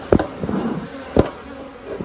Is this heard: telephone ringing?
no